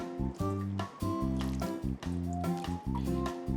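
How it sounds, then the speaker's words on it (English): Water from a pitcher or watering can is poured lightly over potting soil in a garden container, making close, soft squishing and trickling sounds in uneven bursts, with no talk. "Kind of lightly water your soil so that it starts to compact a little bit."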